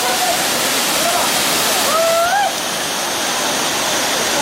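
Ezharakund waterfall in Kannur, a rocky gorge with small cascades feeding pools, roars as a steady, loud wash of falling water throughout, with a few faint high whistle-like chirps over it.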